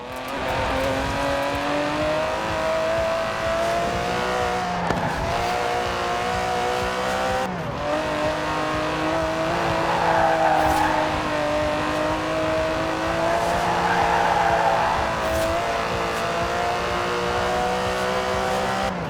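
Aston Martin DB11 with a 5.2-litre twin-turbo V12 in the Forza Horizon 4 racing game, engine droning and revving through several gear shifts, with brief tyre noise, loud and continuous.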